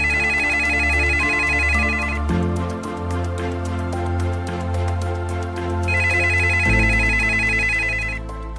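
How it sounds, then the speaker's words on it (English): Phone ringtone repeating on a call placed to a murder suspect, a steady electronic tone pattern filling the clip, loud and close with no talking over it. "But Jorgensen did answer the phone."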